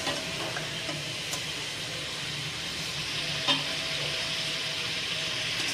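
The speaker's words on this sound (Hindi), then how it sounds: "10 से 12 मिनट लगेंगे चिकन को फ्राई करने में।" Chicken frying in a pan for a restaurant-style makhni handi, giving a steady, even sizzle and hiss throughout, with a faint tap or two of a utensil partway through.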